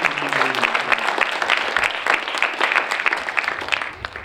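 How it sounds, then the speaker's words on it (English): An audience at an African American Read-In event applauds its readers with a dense, sustained patter of many hands clapping, and a brief voice is heard at the very start. "Give yourselves a round of applause."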